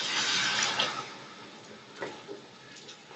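Water poured into coarsely ground masala in a cooking pot for chana dal pulao: a steady close pour that is loudest at the start, then tapers off, with a few small splashes and taps near the end.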